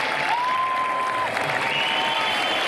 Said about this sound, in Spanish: aplausos por un lado,